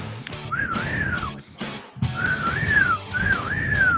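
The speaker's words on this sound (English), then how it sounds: "The whistling is back." Someone whistles a short rising-and-falling tune in three phrases with brief pauses, close and clear over a low background rumble.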